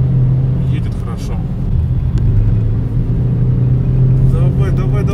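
A Ford Focus drives on a test drive, its engine and road noise a steady low rumble heard from the cabin, with people talking over it throughout.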